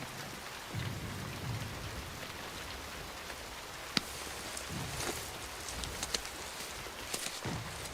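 Heavy rain falls steadily in a dense hiss, with low rumbles underneath and scattered sharp drops and cracks standing out from the downpour.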